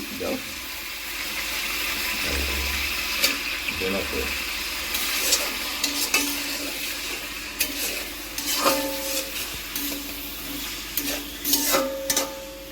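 Onions sizzle in a pan while a utensil repeatedly scrapes and clatters as they're stirred, with occasional voices in the background.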